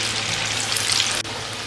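Moong dal fingers frying in oil in a pan, a steady close sizzle and crackle throughout, alone with no talking, briefly dipping near the end.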